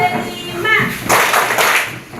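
A classroom of students performs the tepuk kelima clapping routine, with loud overlapping voices chanting together and bursts of hand claps rising over the group noise in a lively, rhythmic ice-breaking game.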